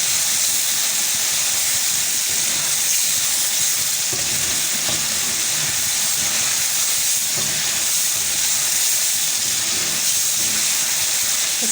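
Chicken karahi frying on a high flame, a loud continuous sizzle and hiss of hot oil with faint stirring movement underneath, steady throughout.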